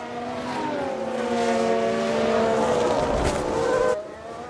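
A single race car crashes during a replay in the F1 Manager 22 racing game, set in a 1994 season with Benetton, with a loud engine whine that rises and then cuts off sharply.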